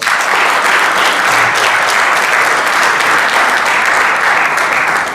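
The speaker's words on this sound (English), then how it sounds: "let's give Ms. Bethany a round of applause" Steady, dense applause from a large audience at a hall of fame induction ceremony, loud and continuous throughout with no talking over it.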